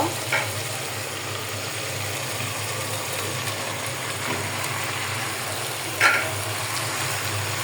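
Meat fries in spiced oil for kacchi biryani, giving a continuous close sizzle with a low rumbling undertone and a couple of brief sharper clatters or pops, without talking.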